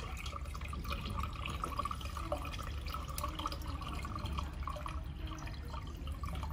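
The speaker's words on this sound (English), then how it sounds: "we add the water to water tank? Just like this." Water is poured steadily into the water tank of a handheld laser welder, a continuous trickling and dripping splash that holds an even level throughout with no talking.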